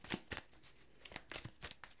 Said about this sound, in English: All right, Taurus, let's get shuffling.